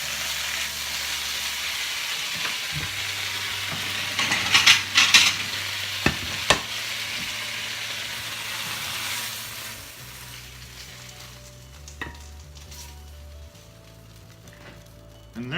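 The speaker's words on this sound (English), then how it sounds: "Oh, listen to that sizzle, isn't that great?" Beet greens and garlic sizzle in a pan over medium heat, a loud steady hiss broken by a few sharp utensil clinks and stirring scrapes, fading quieter toward the end.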